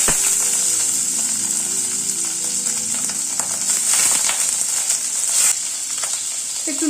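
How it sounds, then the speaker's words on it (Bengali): Paneer pieces frying in hot white oil, a strong steady sizzle with fine crackles and a high hiss, close and loud, briefly shifting near the end as the pan is disturbed. "আগে একটু ভেজে নিচ্ছি।"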